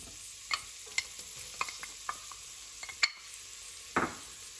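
Onion frying in hot oil in a pan while making risotto for arancini: a steady low sizzle with scattered clicks and taps of a utensil, and one louder scraping burst near the end, no voices.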